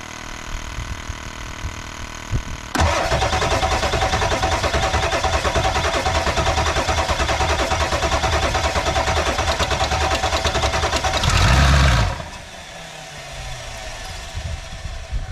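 A Ford F250 with a 7.3 Powerstroke diesel and newly replaced injectors cranks and catches, then runs loud and steady for about nine seconds before shutting off abruptly. A quieter idle-like hum follows.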